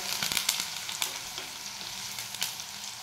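Onions, curry leaves, cumin seeds and mustard seeds fry in hot oil for a spicy brinjal dish, giving a steady close sizzle with occasional crackles and soft stirring clicks.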